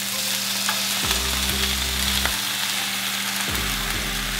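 Tomatoes fry in a pan for homemade pizza sauce, giving a loud steady sizzle, with several low thumping knocks from handling the pan and no speech.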